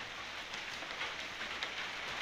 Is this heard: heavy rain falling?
yes